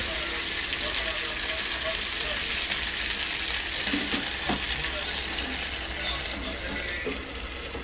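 Surmai fish pieces frying in a pan for a Malvani recipe, a loud constant hiss of oil with bubbling crackle and a few faint knocks, close and continuous.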